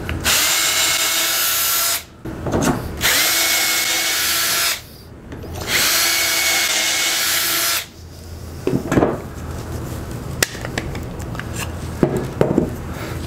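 Power drill boring dowel holes in wood through a Dowel Wizard jig, two loud sustained whirring runs with brief pauses, followed by softer scraping and handling noises, close and with no talking.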